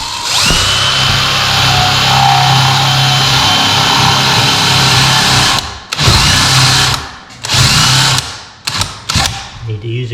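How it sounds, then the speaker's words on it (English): A power drill with a spade bit whines steadily as it bores straight down into wood for several seconds, then stops and restarts in a few short bursts. "you're just drilling straight down"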